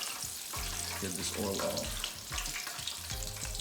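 Spicy fried chicken pieces crackle and sizzle in hot oil, a busy frying hiss running steadily throughout while a person speaks briefly over it.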